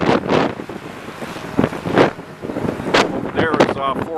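Strong wind gusting outdoors beside a hotel in Toledo, buffeting the microphone in loud irregular blasts while someone talks over it.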